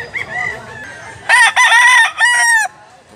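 A yellow-legged rooster crows nearby, a loud, drawn-out call in a few bursts after some soft clucking.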